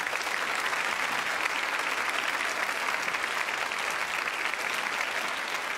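Studio audience at a TV show applauding, a sustained even wash of clapping heard at moderate distance for nearly six seconds with no talk over it.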